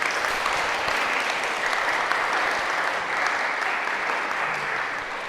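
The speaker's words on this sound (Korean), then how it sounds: "축하의 박수 부탁드립니다." A church congregation applauds during a Sunday worship service, a dense and steady wash of clapping from many people that holds at an even level for several seconds, with no speech.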